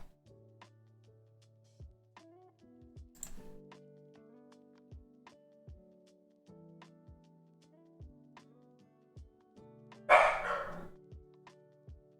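A dog barks indoors in short, repeated barks spaced through the stretch, then a louder, noisier burst near the end; no one talks.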